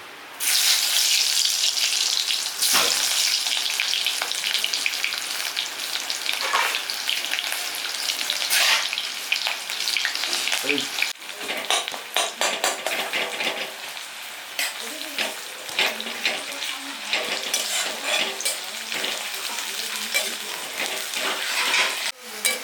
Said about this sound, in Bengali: তো আমার তেল গরম হয়ে গেছে আমি দিয়ে দিচ্ছি পেঁয়াজ কুচি